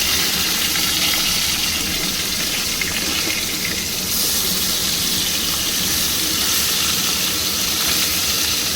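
Fish frying in a pan for shol mulo, a continuous loud hissing sizzle of oil that stays steady throughout with no breaks.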